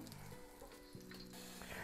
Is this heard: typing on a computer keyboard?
no